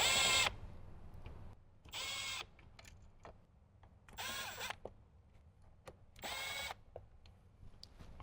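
A power drill drives screws to fasten an amplifier down inside a Jeep Wrangler JK, four separate bursts of close, high whirring, each followed by quiet pauses with small clicks and handling noises.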